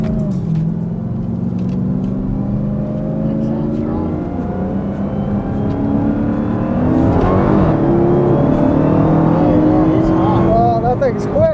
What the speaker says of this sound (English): 40 roll against a really, really nice GTR